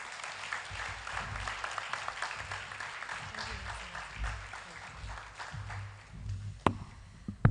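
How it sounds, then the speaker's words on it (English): Crowd applause at a Generation Unlimited Nigeria event honouring the governor of Kano State, a steady, fairly quiet wash of clapping lasting throughout, with a low hum underneath and a couple of sharper taps near the end. "Please let's give another round of applause to the governor of Kano State"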